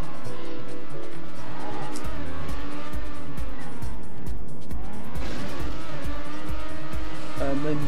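A race car in the TrackMania video game drives through a loop, its engine whining and pitch sweeping down then back up through the turn, loud and continuous over game music.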